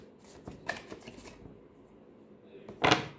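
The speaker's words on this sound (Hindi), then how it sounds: "मैं एक दो कार्ड्स और लेती हूँ।" Tarot cards shuffled and drawn by hand: a few soft riffling rustles and light taps early on, then a brief louder burst of shuffling near the end, close and quiet, with no talk.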